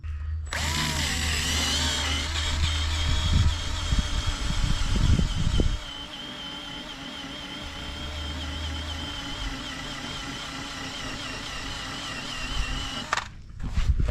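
A handheld power drill whirs with a high, sustained whine while it spins an attachment against a vehicle's body to strip off pinstripes. Its tone shifts under load, and it stops near the end.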